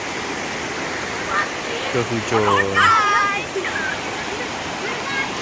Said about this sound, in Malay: Pergi tengok dia punya air ni, deras dan sangat cantik.